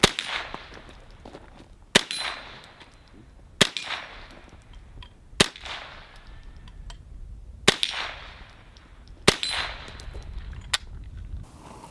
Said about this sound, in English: So the unbaffled pellet gun is louder than the 22.